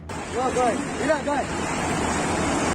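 Fast-flowing river floodwater rushes over a road during heavy monsoon rain in Amreli, Gujarat, a steady loud roar of churning water with people talking over it.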